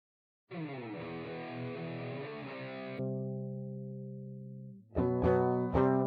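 A clean electric guitar DI signal with no amp or effects: a strummed chord rings out and sustains, decays, then a couple of sharp plucked notes follow. No voices.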